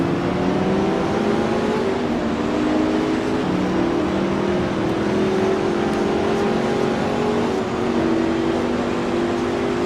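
A Ford GT40 sports car engine in the Grand Prix Legends racing game at Daytona, droning loudly and steadily with a sustained wavering tone as it runs down a fast straightaway, alone without talk.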